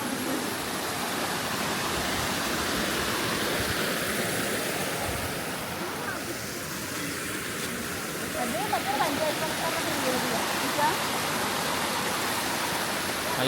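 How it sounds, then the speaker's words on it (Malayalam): A river flows steadily beside a path through rubber plantations, its broadband rush of water continuous and fairly close throughout, with a few faint voices rising briefly near the end. "ഈ ഒരു സൈഡിൽ കൂടി ഇങ്ങനെ പുഴ ഒഴുകുന്നു"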